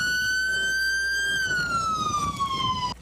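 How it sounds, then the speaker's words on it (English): Police and emergency vehicle sirens from a funeral procession of first responders wail loudly and steadily, the tone holding, then slowly sliding lower, with road and engine rumble underneath throughout. "A caravan of countless first responders rode with lights and sirens to his final resting place."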